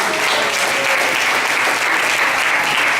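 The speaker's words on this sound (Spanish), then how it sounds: "Démosle un fuerte aplauso al Señor." Steady, loud applause from a church congregation clapping together, a dense wash of hands that continues evenly without any break or talk.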